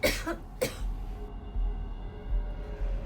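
A couple of sharp coughs from a woman trying to sleep in a chilly Osaka guesthouse, dramatized for a Korean TV ghost-story show; two close bursts early on, then a quiet room tone.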